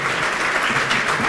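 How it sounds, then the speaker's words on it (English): A conference audience at a developer event in Singapore breaks into dense, steady applause for a sponsor, a continuous wash of clapping with no talk over it. "Big round of applause, and please welcome Bruno Georges"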